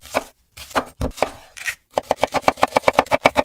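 A knife chops onions on a board, first in a few slow, uneven strokes with pauses, then a quick even run of crisp, loud cuts close by.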